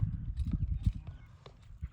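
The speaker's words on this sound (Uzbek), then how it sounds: "Sekin otni ozgina shaqacha olib bering." Horse hooves clip-clopping at a slow trot, steady uneven knocks close by, with a person talking over them.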